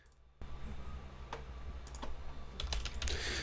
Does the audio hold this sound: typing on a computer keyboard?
yes